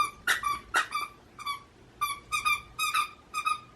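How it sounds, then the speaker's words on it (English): A dog chews a squeaky toy indoors, producing about a dozen sharp, high squeaks in short irregular bursts against a quiet room. "My dog has decided that she wants to play with her toy"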